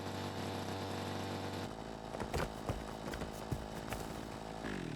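A chainsaw felling a tree in a campsite-building video game, a steady loud engine drone broken by rough cutting bursts and crackling thuds, close up with no talk.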